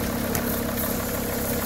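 A 2001 Mercedes T1N Sprinter van engine idling in the snow, a steady, even rumble with constant vibration, close and alone without talk.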